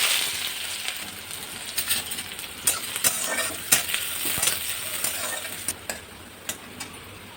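Chopped onion with cumin seeds frying in mustard oil in a pan, a soft constant sizzle broken by scattered ticks and light stirring clinks, no voices.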